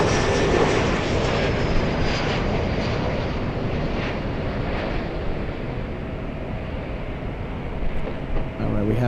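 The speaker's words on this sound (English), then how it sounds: "we have the takeoff flying to DFW, a rare Delta at in Dallas. Delta's 420, the DFW small A319." Delta Airbus A319 taking off from LAX, a steady broad jet engine roar that holds loud and continuous throughout, with wind buffeting on the microphone.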